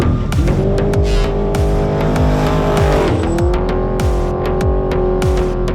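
A race car on a qualifying lap at the NORRA 1000 off-road rally, its engine loud and close and revving hard through rising gear pulls with sharp shift breaks and a brief dip in pitch, the sound steady and unbroken throughout.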